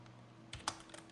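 A computer keyboard being typed on while entering an expression in Adobe After Effects: a few quick, soft keystroke clicks close by, with a short pause between the first and last taps, over a quiet background.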